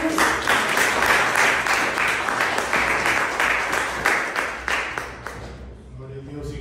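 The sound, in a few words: church congregation applauding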